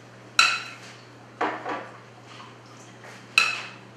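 Onions for carnitas being stirred in a pot: three sharp metallic clanks of a utensil against the pot, with softer scraping between them, close and without talk.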